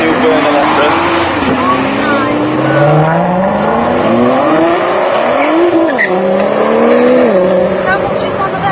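A Ferrari supercar speeds past, its engine note rising and falling through sharp gear changes and revving sweeps, loud and close, with people talking over it.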